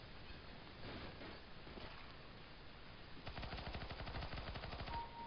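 Rapid automatic gunfire from the video game CS:GO, a quick rattling burst of evenly spaced shots over a constant game background, quiet and without talk.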